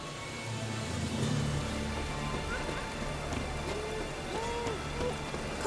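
Steady rain patters in the streets of Novigrad in The Witcher 3: Wild Hunt, a constant hiss with soft drops, while voices murmur faintly beneath it.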